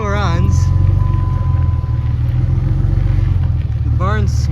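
A Cummins diesel engine with an empty power steering pump idles loudly and steadily up close, a deep continuous rumble with brief whining squeals at the start and end.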